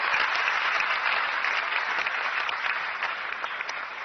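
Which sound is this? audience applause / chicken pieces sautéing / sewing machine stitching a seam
audience applause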